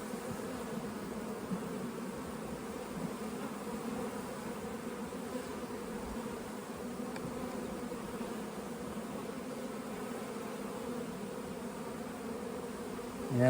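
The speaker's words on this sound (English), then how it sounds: "this is where a lot of little baby bees running around." Honeybees buzz in an open hive, a steady soft continuous hum of many insects close by with no pauses.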